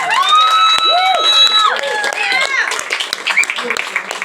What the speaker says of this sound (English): And a round of applause for the band that stepped up,